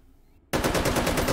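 An AKM rifle firing 7.62x39mm rounds in the VR game H3VR breaks into a loud, rapid full-auto burst after a brief quiet moment and keeps hammering steadily to the end, close up.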